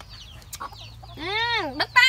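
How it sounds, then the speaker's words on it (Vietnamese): A chicken clucks and lets out a drawn, rising-then-falling squawk close by, with scattered short clucks before it and a steady low background hum. "Con gà kìa, nhanh để đi bắt gà."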